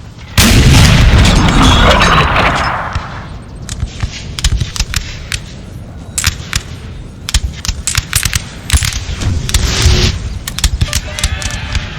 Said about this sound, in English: This artillery here has been an absolute joy. It has been so accurate.